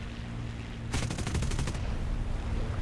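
P-51D .50 caliber machine guns firing in War Thunder, a rapid burst of about ten evenly spaced shots lasting under a second, loud and close over a steady engine drone.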